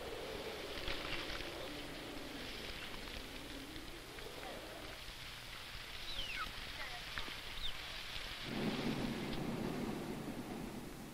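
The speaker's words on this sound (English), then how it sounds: "It's raining somewhere in the highlands of Tanzania." Rain falls in the Tanzanian highlands as a steady broadband hiss with low rumbles of thunder rolling underneath, under a narrator's voice and some background music.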